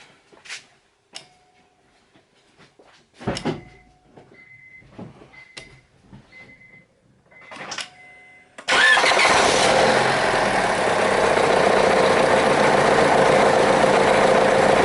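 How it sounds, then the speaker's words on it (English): A car engine is jump-started with a portable jump starter: a few sparse clicks and beeps come first, then the engine cranks and catches near the middle, settling into a loud, steady close-up idle. "after I've gone ahead and turned the car on"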